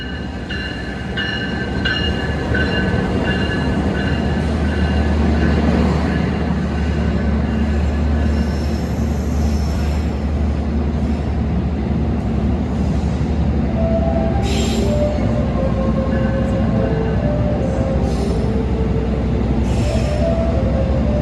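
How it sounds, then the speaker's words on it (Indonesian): Gumarang passenger train pulling into track 1 at Semarang Tawang station in the evening, a loud steady rumble of rolling wagons with faint wheel squeals and a horn-like tone near the end, no voices. "kereta api Gumarang masuk di jalur 1 stasiun Semarang Tawang"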